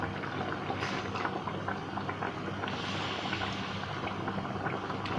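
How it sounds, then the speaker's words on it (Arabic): Washed green beans tipped into a pot on a home stove set a loud, steady bubbling and sizzling going, a continuous close simmer with no one talking. "دلوقتي انا هنزل بالفاصوليا."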